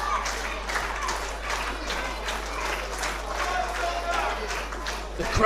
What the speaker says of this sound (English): The crowd here in Morecambe behind Alexis Falcon.